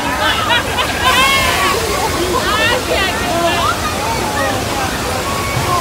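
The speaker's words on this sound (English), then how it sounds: "The water main just broke." Rushing, sloshing floodwater from a staged water main break on the Universal Studios tram ride, loud and continuous throughout, with excited voices and chatter from riders over the torrent.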